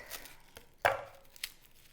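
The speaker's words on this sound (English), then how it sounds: "I'm just chopping up our ginger" A kitchen knife chops ginger on a cutting board while making homemade ramen, a few sharp close taps with one louder strike in the middle, no talking.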